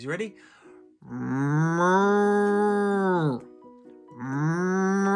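A person imitates a cow with long, drawn-out moos, two sustained lowing calls after a brief spoken question.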